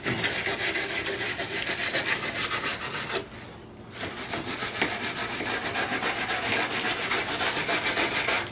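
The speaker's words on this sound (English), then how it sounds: "Roughen them up and ruin my my awesome wire brush in the process" A wire brush scrubs hard along a motorcycle fairing's plastic edge, roughening the contact points for repair. The rasping is loud and continuous, broken by one short pause before the scraping resumes.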